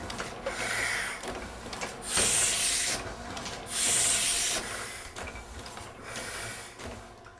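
Ink dabbed and rubbed by hand onto a letterpress printing press, a soft scraping and rubbing in irregular close strokes with two louder hissing swipes, faint overall.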